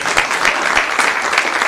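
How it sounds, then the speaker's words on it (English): Crowd applause at a security conference talk on machine learning: a dense, steady wash of many hands clapping at close range, filling the whole moment with no voices on top. "don't I deserve the clap at least?"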